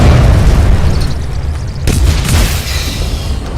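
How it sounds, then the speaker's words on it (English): A fiery explosion in the Lego Batman 3 video game as Zod's men attack, heard as a loud, rumbling boom that stays heavy throughout, with a second blast swelling partway through. "Another fiery explosion with more of Zod's men trying to hunt me down."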